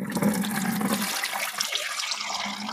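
A full container of water gets dumped out in one rushing gush that pours and splashes steadily, then thins toward a trickle, close by with no talk.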